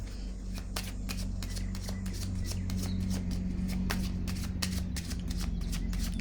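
Tarot cards shuffled and laid down in a rapid, steady run of crisp flicks and slaps, close and clear over a low background hum.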